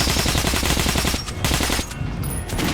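A suppressed Kalash rifle fires in rapid automatic bursts in the video game Metro: Last Light Redux, sharp repeated muffled shots close up, followed by a couple of shorter bursts.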